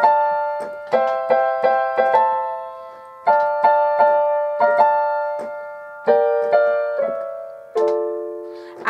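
Piano plays the theme from Pirates of the Caribbean, a clear solo line of separate struck notes in a driving rhythm, each note decaying, close and alone.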